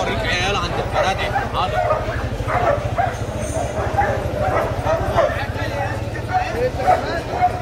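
A German Shepherd at an outdoor Friday dog market barks and yips repeatedly in short bursts amid a steady low hum, with people talking nearby throughout.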